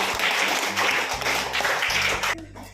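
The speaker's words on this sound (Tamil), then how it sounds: "கிளாப் பண்ணுங்க." A group of students claps together in a classroom during an English lesson, a loud, dense burst of applause that runs steadily for a couple of seconds and then breaks off abruptly.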